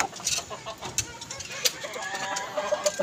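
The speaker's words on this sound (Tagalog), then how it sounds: "Ang manok oh." Chickens cluck in short, repeated bursts, fairly close in a backyard, with some background noise.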